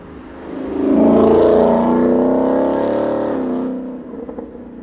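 Ford Mustang GT (2018-2023) fitted with a Ford Performance by Borla Extreme cat-back exhaust with carbon fiber tips, revving up into a loud, sustained deep exhaust roar for about three seconds before settling back to a lower rumble.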